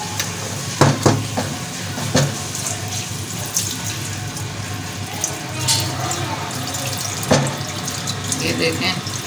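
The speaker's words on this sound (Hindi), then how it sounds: "अब इसमें हम पानी ऐड करेंगे" Water is poured into a pot of cooking masoor dal, a continuous splashing wash with occasional louder clinks and pours, fairly close and steady throughout.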